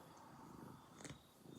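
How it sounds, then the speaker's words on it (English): A cat curled on a lap purrs softly and continuously, a low rumbling close to the ear, quiet and unaccompanied by talk. "oh, he's starting to purr."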